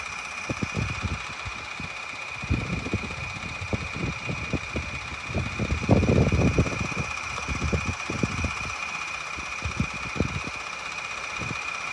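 A delivery truck engine idles and rumbles outside a shop during exterior house painting, a steady close mechanical drone with uneven knocking thumps that swell briefly in the middle.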